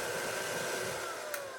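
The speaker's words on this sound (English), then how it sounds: "this little square machine right here, it's a vacuum that takes off all the dust away" A small square jewellery dust vacuum with a filter runs steadily, giving a loud, even whirring hum with a faint tonal whine throughout and a brief click near the end.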